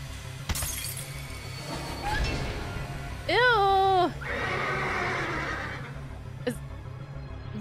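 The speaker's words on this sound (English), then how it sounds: "Was that a horse, Winnie?" Horse whinny from the video game Parasite Eve 2, a single loud rising-and-falling neigh lasting under a second amid game music and noise, with a glassy crash and clinking nearby.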